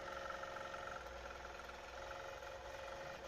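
A computerized quilting machine on the Creative Studio 7.0 edge-to-edge feature runs its tie-off stitches, giving a steady, close mechanical hum and whir with no talking.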